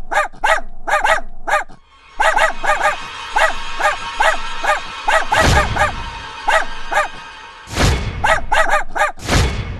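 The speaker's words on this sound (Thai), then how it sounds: "ก็มีหมาเฮามาหอนอ้อมบ้านรอบบ้านรอบเมืองเลย" Dogs barking and yelping in quick repeated bursts, fairly close and loud, with a few heavy thumps in between.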